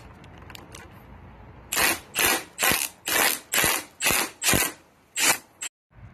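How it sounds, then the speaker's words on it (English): A ratchet wrench loosening the fork cap on a 2024 CFMOTO Papio CL/SS motorcycle, a run of about nine loud, evenly spaced ratcheting clicks close by, preceded by faint taps. "loosen the top triple, remove the fork cap"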